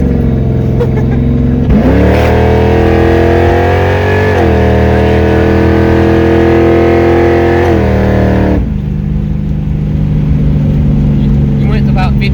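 A 363 stroker Ford Mustang engine accelerates hard through the gears from inside the car, a loud, steady roar climbing in pitch, dropping at each shift and rising again, with people talking over it.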